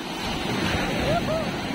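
Strong ocean waves surge and crash against rocks in the open sea, a loud, continuous rushing roar with steady wind noise, while a voice speaks briefly over it.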